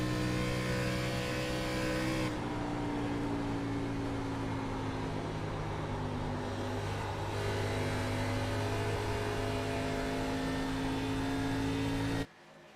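ARCA Series race cars on a track at a championship race, with a loud, continuous engine drone whose pitch shifts as the cars run through a corner and back onto the throttle, cutting off abruptly near the end.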